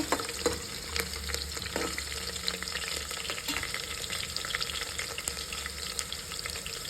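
Mushrooms fry in a pan for spicy mushroom biryani: a dense, continuous sizzle with crackling pops and occasional stirring scrapes, close and steady throughout, and no one speaks.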